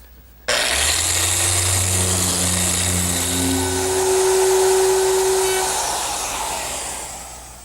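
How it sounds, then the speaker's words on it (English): A power sander works a wooden face frame, starting abruptly and holding a loud, steady hissing whir with a humming tone that shifts slightly in pitch, then gradually tapering near the end. "I want to sand the face frame."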